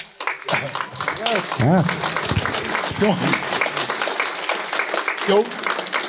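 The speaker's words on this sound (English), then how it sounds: "don't clap for me because Donald did it" A book-talk audience bursts into loud applause and cheering that fills the room, with a voice talking over the clapping throughout.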